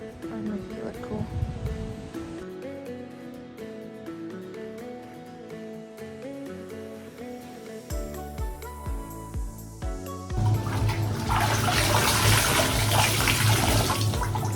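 Water gushes steadily from a tap for the last few seconds while things are rinsed out, following quieter clinking and tonal sounds.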